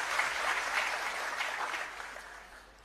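Crowd applause at a political rally, a dense wash of many hands clapping together for a few seconds before gradually thinning and fading.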